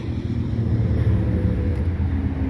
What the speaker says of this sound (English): there's like a car over there that's like driving really noisy